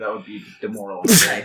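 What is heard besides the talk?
sneeze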